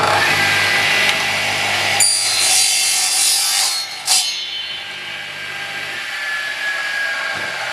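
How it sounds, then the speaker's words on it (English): A drop saw starts up and cuts through wooden moulding in a workshop, a loud whining rasp of blade through wood for about two seconds that tails off as the motor winds down, with no talk. "excuse the noise, but I'll start my drop saw up."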